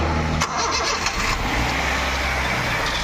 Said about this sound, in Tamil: வண்டி பாருங்க, வண்டி ஸ்டார்டிங்ல இருக்கு.